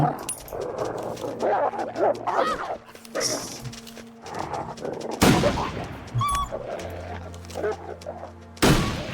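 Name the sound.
gunshots in video game The Long Dark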